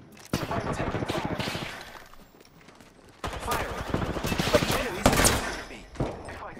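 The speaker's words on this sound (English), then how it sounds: "I'm taking fire." Rapid automatic gunfire in Apex Legends, long rattling bursts with a lull in the middle, then heavier fire with sharp impacts, mixed with game sounds.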